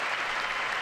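Sustained applause from Republican members in the House chamber during the State of the Union address, a dense, steady wash of many hands clapping at moderate distance with no pauses.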